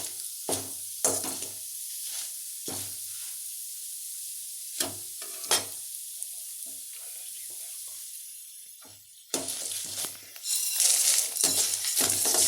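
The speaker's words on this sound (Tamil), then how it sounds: "மிளகு போடும்போது கொஞ்சம் தள்ளி நின்றுக்கோங்க, அது வெடிக்கும்." Black pepper crackling in hot oil while cooking a bitter gourd kuzhambu: sharp irregular pops and spits over a steady sizzle, building to a denser burst of crackles toward the end.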